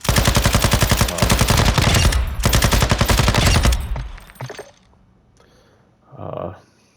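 Long sustained bursts of light machine gun fire from a Bruin Warrior LMG in Call of Duty DMZ, loud and rapid, broken by brief pauses, then fading out, with a short muffled thump near the end.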